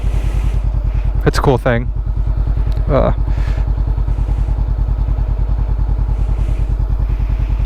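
An S1K 190-horsepower motorcycle engine runs steadily while riding, its loud, even low drone continuing throughout as someone talks briefly over it.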